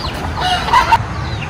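A native rooster clucks a few short, throaty times over steady farmyard background noise, with no voices.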